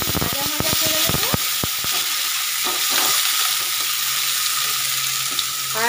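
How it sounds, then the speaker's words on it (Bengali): Onion and tomato frying in oil in a pan give a steady, close sizzle throughout, with sharp stirring clicks and scrapes in the first seconds and no talking. "দিয়ে ভাজা ভাজা করে নেবো।"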